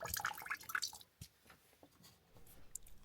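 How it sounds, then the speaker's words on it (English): Water trickles and drips into a bucket during a heating and hot-water valve repair: a few quick splashy drips at first, then scattered soft isolated drops, quiet and close. "when the water's still running and the bucket's filling up quite quickly"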